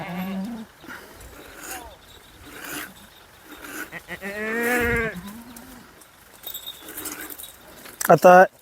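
A Kathiyawadi goat bleats several times, one long loud cry in the middle, amid a person talking and some rustling and clatter near the end.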